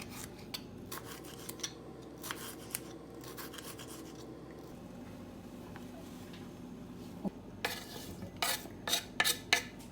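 A knife slicing a seeded cucumber into thin, same-size slices on a board, quiet soft taps and scrapes that quicken into a cluster of sharper chops near the end.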